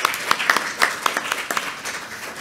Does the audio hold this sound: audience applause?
yes